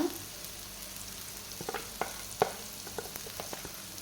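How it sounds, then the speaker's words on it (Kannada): Masala fries in a pan with softened tomato and onion for a Dover sole fish fry: a quiet, continuous sizzle broken by a few sharp spoon-and-pan clacks from stirring. "ಇದನ್ನು ಚೆನ್ನಾಗಿ ಫ್ರೈ ಮಾಡ್ಕೊಳ್ಬೇಕು"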